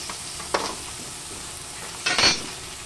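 Garlic and white onion being stirred in a hot pan, a soft steady sizzle broken by two brief scraping strokes of a utensil, no voices.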